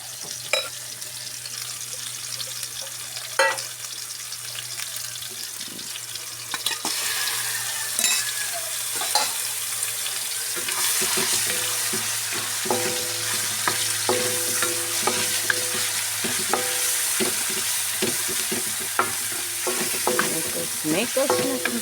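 Bamboo shoots simmer in coconut milk with a steady sizzle while a utensil stirs and scrapes the pan in irregular strokes, close up and continuous, with occasional clinks.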